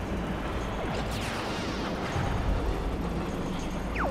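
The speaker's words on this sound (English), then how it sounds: "Love the explosions of that train." A train blowing up in the Nintendo 64 game Star Fox 64, a rumbling burst of explosion noise with debris-like crackle and a sweeping tone, moderately loud with no talking.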